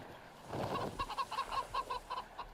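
Chickens clucking in the video game Wasteland 3, a brief scratchy flurry followed by a rhythmic run of about ten short, evenly spaced clucks, moderately close and with no talk over them.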